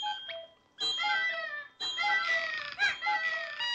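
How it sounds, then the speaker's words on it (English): Clocks in the Pinocchio film go off together, ringing out bright, bell-like chimes and little tinkling melodies in a few overlapping bursts, each fading before the next begins. "The sounds of the clocks ticking and when they go off, all those little delightful, charming chimes and melodies within all the different clocks."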